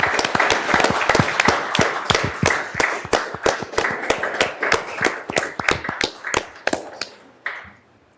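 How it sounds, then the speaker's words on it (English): A round of applause at a county fiscal court meeting, with a small crowd of hands clapping in a dense, fairly close patter that thins toward the end and fades to a few last claps. "we give them a round of applause"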